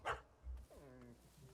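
A dog barking in the video game Witcher 3 Heart of Stone, a quiet sequence of a couple of short barks followed by a drawn-out whining yelp.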